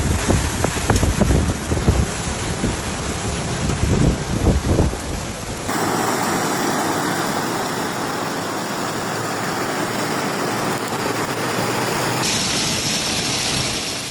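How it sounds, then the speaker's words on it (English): Heavy rain and gusting wind lash down during a supercell thunderstorm in Bavaria, Germany, a dense, continuous roar of downpour that shifts into a steadier, broadband wash with wind rumble buffeting the microphone throughout. "rain fell so heavily that visibility dropped within minutes"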